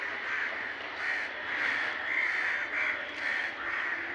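Crows cawing where frozen food has been set out for birds, a dense overlapping chorus of harsh calls that stays loud and continuous throughout.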